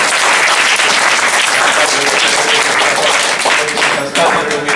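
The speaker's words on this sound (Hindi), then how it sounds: "एक बार जोरदार तालियां बजाकर" Loud, dense applause from an audience at a public event in Vidisha, many hands clapping continuously and close, with voices faintly mixed in beneath the clapping.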